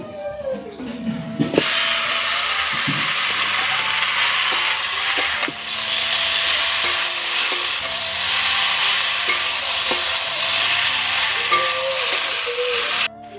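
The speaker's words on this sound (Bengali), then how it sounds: "এবার এই সিদ্ধ করা কচু শাকগুলো কড়ার মধ্যে তুলে দেবো।" Boiled taro leaves go into a hot wok of spiced oil and sizzle loudly and steadily, a dense close frying hiss with occasional scrapes of stirring, heard alone without voices.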